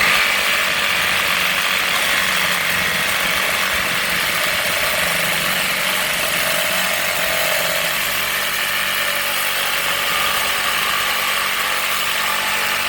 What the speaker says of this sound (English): So let's move on and test this Sabre Saw.